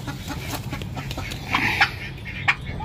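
A turkey hen gives a few short, sharp squawks while being caught on a farm, with two louder calls standing out near the end against a steady low background.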